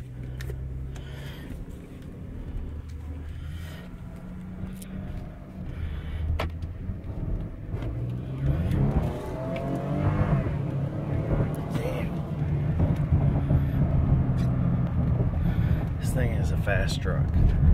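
A 2016 Ford F-150 pickup with the 2.7 EcoBoost engine idles and then accelerates, its engine note climbing and growing louder over the second half while people talk inside the cab.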